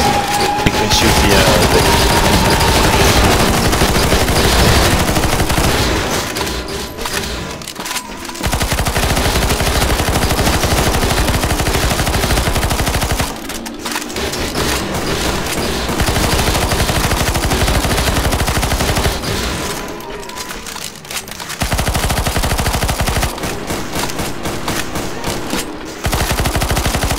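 Sustained automatic gunfire in CS:GO Zombies mode, loud dense machine-gun bursts from several weapons, broken by a few short pauses before firing resumes.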